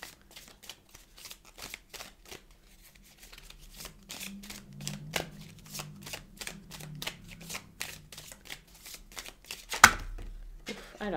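A deck of tarot cards is shuffled by hand, producing quiet, close rhythmic clicks and soft flutters in uneven bursts. A sharper snap near the end could be a card flying out.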